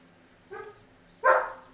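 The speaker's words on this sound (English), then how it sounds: "No barks, Keeks." A dog barks twice nearby, a shorter softer woof followed by a louder, sharper one, alone against a quiet indoor background.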